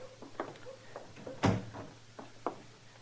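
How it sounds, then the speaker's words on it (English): A door closes in an old-time Western radio drama, a single sharp thump at mid-clip standing out from faint scattered sounds, with a low steady hum underneath. "Close the door, Chester."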